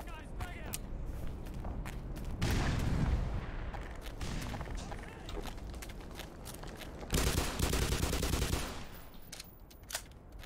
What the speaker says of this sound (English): I'm just gonna run up and shotgun him.